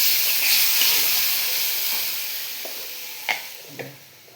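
Water splashed into a hot pan of frying spices with turmeric and chili raises a loud broadband sizzle that slowly fades, with a few sharp spits and crackles toward the end.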